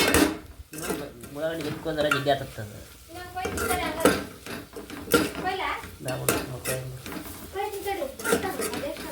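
Egg curry being stirred in a pan at home, with clattering, scraping strokes of a spoon against metal and a light sizzle underneath, close by, while a person talks over it.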